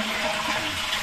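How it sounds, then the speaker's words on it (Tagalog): A toilet flushing in a convention center restroom, a loud, close, steady rush of water lasting about a second with no voices over it. "Ayan, flush."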